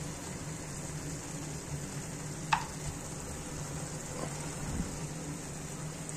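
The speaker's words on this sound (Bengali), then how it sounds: "ম্যারিনেট যে করেছিলাম সেই চিকেনটা এবার এর মধ্যে দিয়ে দিচ্ছি।" Marinated chicken sizzles steadily in a hot wok, with a soft frying hiss, a sharp metal clink and a few scraping stirs, fairly quiet and without talk.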